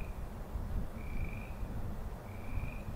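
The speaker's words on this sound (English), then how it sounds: "There's a frog in the marsh right over there." Frog croaking from a marsh in Colorado, a repeated drawn-out call sounding about twice at a moderate distance over a steady low outdoor rumble.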